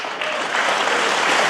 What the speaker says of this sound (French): sous les applaudissements des membres de l'université d'été du MEDEF